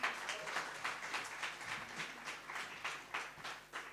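An audience at a Hindi youth event applauds, a faint, distant wash of clapping with gentle rhythmic swells that continues steadily throughout.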